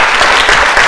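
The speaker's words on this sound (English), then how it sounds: "So give a round of applause for them." A brief, dense burst of audience applause at the close of a technical talk on GPU-accelerated high-performance computing, many hands clapping at once in a steady wash of sound, fairly loud, with no clear voices.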